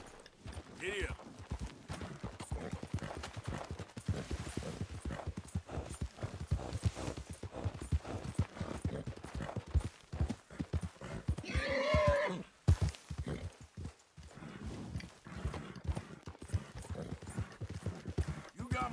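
Horse hooves clip-clop at a steady gallop in the video game Red Dead Redemption 2, rapid rhythmic beats throughout, with a loud neigh near the middle and a brief break before the hoofbeats resume.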